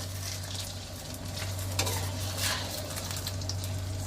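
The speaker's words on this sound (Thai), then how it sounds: "พัดไข่ให้สุกก่อนแล้วเราเอาเฮ็ดลง" Eggs stir-fried in a pan for a wood ear mushroom stir-fry, steady close sizzle with scraping spatula strokes and a couple of sharper clanks against the pan, no talk over it.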